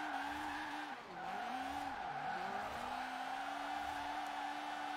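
Sustained tire squeal from a drifting car in the video game Forza Horizon 4, with a droning engine, the pitch dipping and rising as the slide changes, loud and continuous with no voices.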